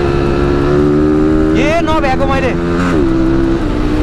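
Yamaha RX100 two-stroke motorcycle engine heard at a lakeside, a steady engine drone rising into a brief rev in the middle, with people talking over it.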